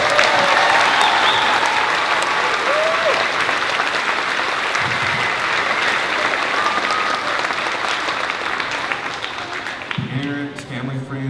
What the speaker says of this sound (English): give everybody another round of applause.